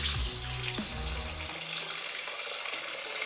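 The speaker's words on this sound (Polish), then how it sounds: "no to zalewam to wszystko wodą" Water is poured from a tap over vegetables and fried tomato paste in a soup pot, a close gushing stream with a deep, shifting tone as the pot fills, then a steady trickle, with no talk.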